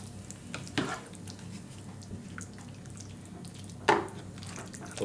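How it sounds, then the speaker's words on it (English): Cooked pasta is tossed through a feta sauce in a pan, giving soft wet stirring and faint sizzle with two sharper scrapes of the utensil against the pan, one louder near the end. "Then we mix it well"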